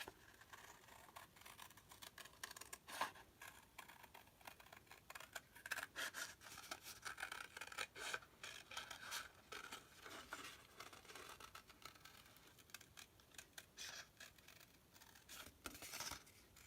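Scissors snip repeatedly through paper while cutting out a peanut-shaped body for a Thanksgiving paper craft, giving quiet, close, irregular crisp snips and rustles with no talk.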